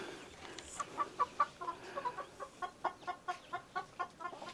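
Chickens clucking outdoors on a hot day, a quiet, fairly distant run of rhythmic clucks repeating roughly every third of a second, with no talking.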